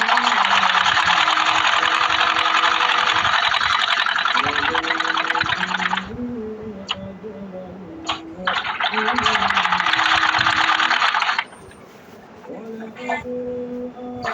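A sewing machine stitches a back pocket, running in two sustained bursts of rapid, buzzing whir separated by a pause with small clicks. Someone talks over and between the stitching.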